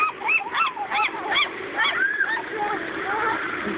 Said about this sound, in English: You hear Ducky? Honk, honk, honk, honk.